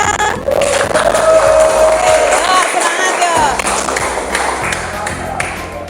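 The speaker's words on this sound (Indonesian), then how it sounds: "Tepuk tangan semuanya." A classroom audience claps and cheers during a school talk-show style lesson, a dense burst of applause with some chatter, and a voice speaks briefly over it.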